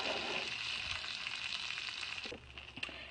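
Butter and sugar melt in a pan with a steady, close frying sizzle that runs throughout, easing slightly near the end with a few soft clicks; nobody speaks.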